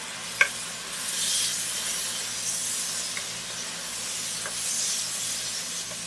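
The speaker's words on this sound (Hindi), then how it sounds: "दोबारा से इसके अंदर मटन ब्रॉथ यानी कि गोश्त की यखनी डालेंगे इसके अंदर" Mutton broth poured into a sizzling pot of spiced mutton for a pressure-cooker mutton biryani: a steady hiss and steamy sizzle with a sharp clink near the start and faint stirring scrapes.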